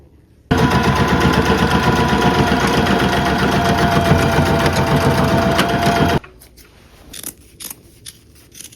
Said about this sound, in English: now we can just sew straight across this way to get rid of those 2 inches